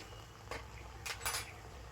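A spoon stirs milk over low heat in a cooking pan with a pinch of salt, giving three soft, brief scrapes and clinks against the metal in an otherwise quiet kitchen.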